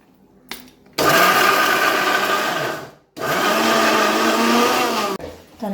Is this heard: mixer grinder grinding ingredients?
yes